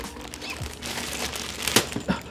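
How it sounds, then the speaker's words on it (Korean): Plastic wrapping is peeled off the head of a cheap cordless electric fan. The crinkling rustles up close and ends in a few sharper crackles, with no voices. "비닐을 제거하고"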